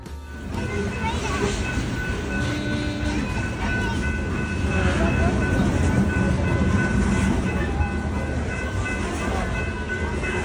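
A train passes near a river crossing by Harrison Hot Springs and White Rock, a steady loud rumble and rattle of rail cars with a faint rhythmic clatter underneath and people talking over it.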